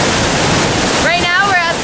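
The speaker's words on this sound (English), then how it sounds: "Right now we're at the Bonius waterfall, which is one of the main sources for the Jordan River" Steady, loud rushing roar of the Banias waterfall, a source of the Jordan River, fills the whole stretch; a voice starts talking over it about halfway through.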